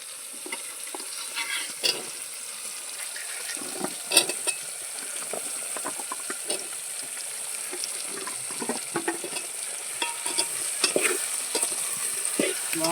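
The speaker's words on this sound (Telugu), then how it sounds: "మంచి టమాటాలు బాగా ఉడికినాయి ఇప్పుడు బెండకాయలు వేద్దాము" Okra added to a pan of cooked tomatoes and stirred: a soft, continuous sizzle broken by light scraping and clacking strokes from the stirring, with no talking.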